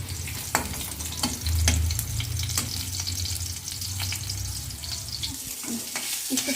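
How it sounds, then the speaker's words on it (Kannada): Onions frying in a pan for egg sambar, a steady close sizzle with scattered scrape clicks from stirring, running continuously with no talk. "ಇದು ಕಂದು ಬಣ್ಣಕ್ಕೆ ಬರಬೇಕು ಈರುಳ್ಳಿ, ಅಲ್ಲಿವರೆಗೂ ಸ್ವಲ್ಪ ಫ್ರೈ ಮಾಡಬೇಕಿದನ್ನು"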